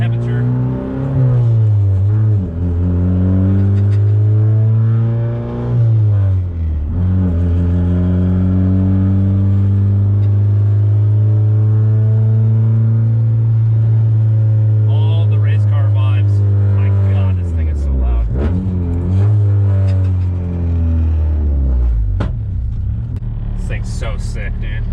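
Fully built Mazdaspeed 3 driving around the block, its engine droning steadily with rising and falling revs through gear changes, loud and close from inside the car, with brief talk over it.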